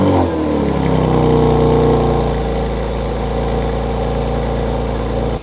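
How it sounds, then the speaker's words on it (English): A BMW E60 M5 engine fires up from cold, catching with a loud burst that settles into a steady, high fast idle that holds close and loud throughout. "Have I ever shown you guys a cold start of this thing?"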